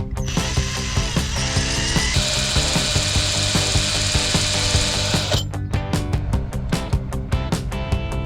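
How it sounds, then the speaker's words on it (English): Ratchet wrench turning a left-hand threaded extractor on a seized bolt during vehicle preparation, a dense, loud run of clicking and grinding that gives way to sharper, separate ratcheting clicks near the end, with no talk. "these are left-hand threaded so that you can hopefully get a bite and undo the bolt"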